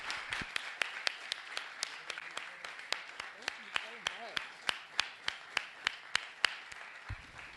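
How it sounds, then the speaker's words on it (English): Audience applause breaks into sharp, rhythmic clapping in unison, crisp claps at about three per second keeping a steady beat while a voice briefly calls out partway through. "Everybody, round of applause for Isaiah, huh?"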